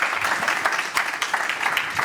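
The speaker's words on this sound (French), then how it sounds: "je crois qu'on peut les applaudir" A brief, lively burst of audience clapping greets workshop presenters at a tech summit, with dense, close hand claps at steady volume for about two seconds.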